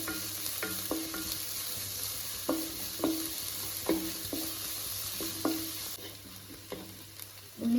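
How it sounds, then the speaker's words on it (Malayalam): Shallots and ginger sauté in a pan with a steady soft sizzle, while a spatula scrapes and stirs in repeated short strokes about every half second, close and fairly quiet, with no talking. "ഇതിൽ ചേർത്തിട്ട് ഒന്നും കൂടി ഇളക്കി കൊടുക്കാം"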